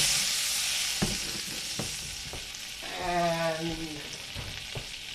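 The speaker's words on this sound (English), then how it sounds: "So now all we have to do is sear it. So let's turn the camera around, get it on the pan here." A sous vide chuck steak sears in a hot pan with a soft steady sizzle, some clinks and handling sounds, and a brief voice near the start.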